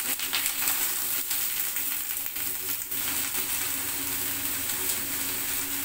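Eggplant frying in hot oil left over from frying onion and garlic, a steady, even sizzle that holds at one level throughout with no talking.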